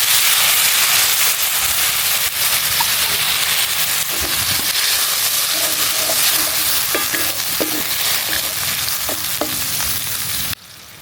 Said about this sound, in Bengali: মশলা কষানোর জন্য আমরা হালকা একটু জল দেবো, যাতে মশলাটা ভালোভাবে কষা হয়